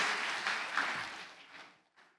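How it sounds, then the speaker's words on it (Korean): Church congregation clapping to welcome the chairman to the front at a revival meeting, a dense steady patter of many hands that thins out and briefly stops before a short final burst. "회장님 나오실 때 박수로 맞아주시기 바랍니다."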